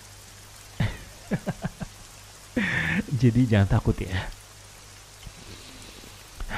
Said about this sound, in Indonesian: malam hari ini hujannya tuh bener-bener indah